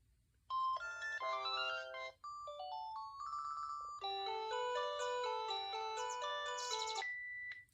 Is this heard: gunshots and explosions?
no